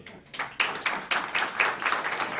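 Small group of people clapping in loose, overlapping bursts during an audience vote at a live folk music session, several rounds of hand claps rising and fading close by.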